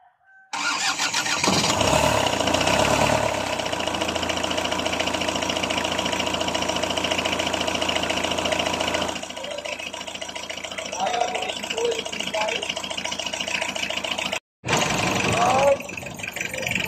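A Mazda RF diesel engine, just back from a top overhaul, cranks and fires up, then settles into a loud, steady, knocking idle. Voices talk over it and there is a brief cut near the end.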